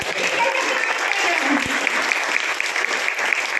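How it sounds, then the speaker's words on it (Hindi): Students at a World Cancer Day school event receive loud, continuous applause, a dense crowd clapping evenly for several seconds without a break. "जोरदार ताली के साथ"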